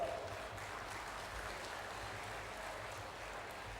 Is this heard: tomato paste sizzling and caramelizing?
no